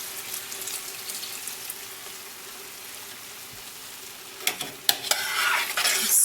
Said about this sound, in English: Stir that in really well.